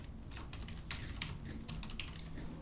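Quiet computer keyboard typing while entering an Excel formula, a run of irregular soft key clicks over a steady background hiss, with no talking.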